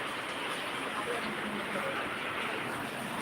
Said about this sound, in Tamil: வாங்க பார்ப்போம் அத்ராப்பில் எப்படி மழை பெய்யுதுன்னு பாருங்கள்